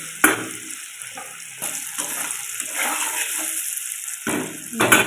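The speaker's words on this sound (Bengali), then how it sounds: "পনিরটা ভাজা হয়ে গেছে, এবার তুলে নেবো।" Paneer frying in oil in a pan, a close, steady sizzle broken by sharp clatters at the start and end, with no talking.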